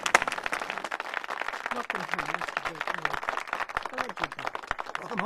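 A crowd applauds at a homecoming welcome in a Western film, sharp clustered claps mixed with music and voices talking and calling out over the clapping.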